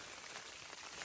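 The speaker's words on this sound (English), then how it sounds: "But can you hear the rain?" Steady rain patters on a tent during a winter storm at a snowy campsite, a dense continuous hiss of drops close by with no voices.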